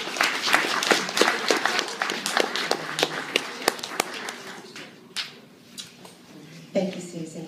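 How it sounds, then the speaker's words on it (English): Guests at a wedding ceremony clap for a reader, a scattered round of sharp, distinct handclaps that starts busy and tapers into sparse claps, with a voice speaking at the end. "Why don't you give a huge round of applause to Susie for that little romance?"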